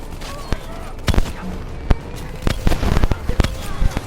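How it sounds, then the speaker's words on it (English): Swarm launcher rockets fire in Call of Duty: Black Ops 3, a rapid string of sharp, loud bangs and bursts over a few seconds, mixed with voices calling out. "Hit him with the swarm launcher."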